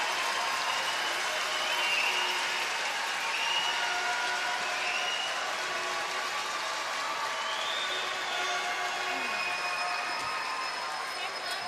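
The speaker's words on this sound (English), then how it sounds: "the cheers by the Canadian crowd for the victorious Jennifer Jones winning another one" Canadian crowd at the 2018 women's curling world championship, a broad, sustained wash of cheering and applause filling a large arena, steady throughout with commentary voices mixed in.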